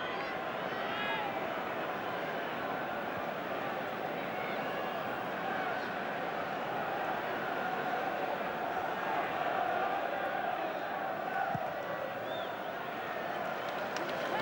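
Roaring stadium crowd at a 1999 Rugby World Cup semi-final between the All Blacks and France, a sustained loud wash of cheering behind steady commentary.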